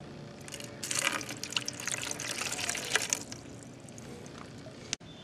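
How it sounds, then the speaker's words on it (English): A measuring cup of water is poured into a cooler, a splashing pour for about two seconds that thins to trickles and drips, ending with a sharp knock. "We will start by pouring 1 measuring cup of water into this"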